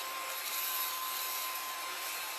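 A vacuum cleaner sucks up loose craft moss with a steady, loud, continuous whine and airy rush, running alone without pause.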